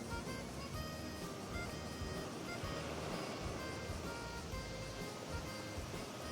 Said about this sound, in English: The sound of the waves and cicadas surround us.